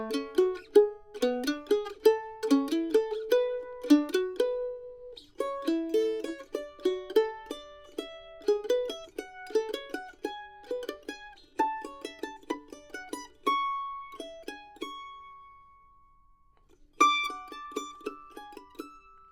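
A mandolin picks a three-note double-stop pattern that climbs the scale, with crisp, bright plucked notes in a steady rhythm. Short pauses break up the phrases, and a few notes ring out toward the end, with no talking.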